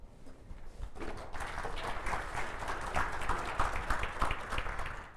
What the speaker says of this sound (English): Wow, applause, I like that.